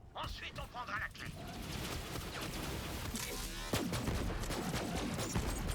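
Dense, continuous gunfire from a flaming machine gun in the co-op shooter Borderlands 3, loud and rapid throughout, with voices talking over the shooting.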